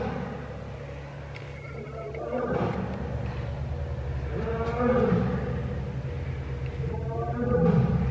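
A lion in a zoo enclosure gives deep, drawn-out roaring calls, repeated about three times at a steady spacing, loud and fairly close over constant outdoor background noise, with no one talking over it.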